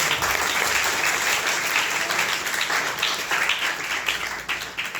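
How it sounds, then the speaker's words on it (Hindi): An audience at a library event breaks into sustained, dense applause, a steady, fairly close wash of many hands clapping that tapers slightly toward the end. "उनके लिए भी तालियां बजाइए"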